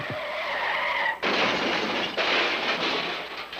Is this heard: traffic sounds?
yes